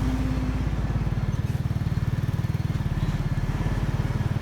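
A motorbike engine runs steadily close by on a ride between War Cemetery and Hlegu Park in Myanmar, with a fast, even putter that holds through the whole stretch. No one speaks.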